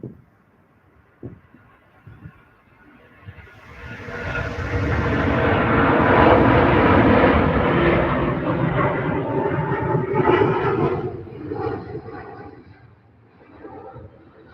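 A Qatar Airways airliner at Manchester Airport passes by, its jet roar swelling from quiet to a loud sustained rumble over several seconds, then gradually fading into the distance.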